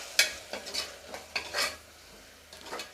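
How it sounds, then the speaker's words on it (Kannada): Ground masala frying with vegetables in a pan for masala bath rice, a faint sizzle beneath repeated spatula scrapes and stirring clatter coming in uneven bursts, close by, with no one speaking. "ಈ ಮಸಾಲೆನ ಹಾಕ್ಕೊಂಡು ಒಂದು 2 ನಿಮಿಷ ಫ್ರೈ ಮಾಡ್ಕೋಬೇಕು"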